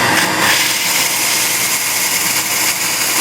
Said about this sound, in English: Run it on my belt sander.